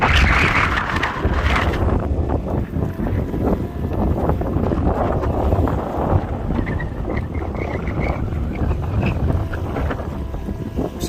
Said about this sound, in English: I'm sure the wind is awful